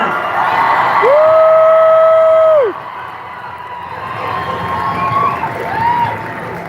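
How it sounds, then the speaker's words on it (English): A crowd at an outdoor ICE protest at Civic Plaza in Albuquerque, New Mexico cheers and whoops loudly, with a long sustained shout in the middle. Scattered cheering and yelling follow at a slightly lower level. "Can I hear one more round of applause for Layla?"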